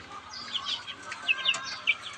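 One-month-old chicks, about 32 days, in a brooder pen, cheeping in rapid high-pitched bursts; several birds chirp at once at moderate loudness with no talking.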